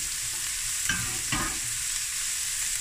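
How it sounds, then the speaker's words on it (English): Onion sweating over medium heat in a pan for spaghetti bolognaise, a steady broadband sizzle with a couple of brief stirring scrapes, close and without talk. "Let the onion sweat down."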